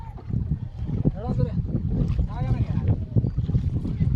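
Strong wind gusts across a wide river, the Brahmaputra, buffeting the microphone with a low rumbling roar while someone talks and water laps near a small fishing boat.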